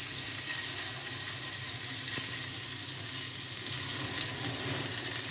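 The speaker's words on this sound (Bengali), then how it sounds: "এই জন্য আলুটাতেও একটু একটু ভাজা করে নিচ্ছি।" Potatoes with turmeric and salt fry in oil, giving a loud, dense, continuous sizzle close by with faint stirring underneath and no voices.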